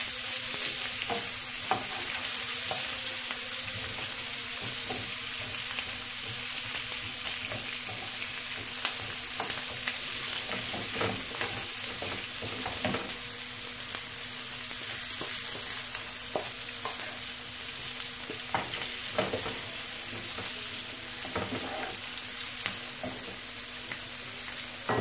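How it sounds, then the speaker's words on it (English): Asparagus fries in a pan for a fall soup, giving a steady, fairly quiet sizzle dotted with occasional sharp crackles and stirring clicks, with no talk throughout. "once you fry it a bit, it's gonna be more tasteful"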